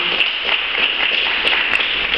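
An audience at a tango event gives a steady round of applause, a fairly loud, even wash of many hands clapping with no speech over it.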